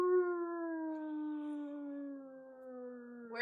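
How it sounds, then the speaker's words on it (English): Wolves howl in a single long, steady tone that slides gently downward and holds for over three seconds. It comes from the northwest and stands clear with almost nothing behind it. "From the northwest, you can hear several howls."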